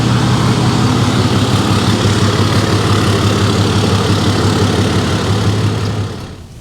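A wheel loader's diesel engine runs loud and close with a steady, rough idling rumble, then cuts off and fades away near the end.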